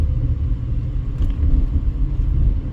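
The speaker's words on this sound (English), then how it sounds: "Big Chevy 2500 there." A big Chevy 2500 pickup truck rolls past on a street in East Las Vegas, its steady low engine rumble and road noise holding fairly loud and even throughout, with no talking.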